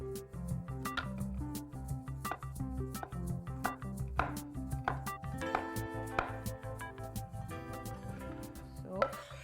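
Garlic being chopped on a board for a Greek salad dressing, a rapid run of sharp knife taps at close range, steady and rhythmic, with voices talking over it.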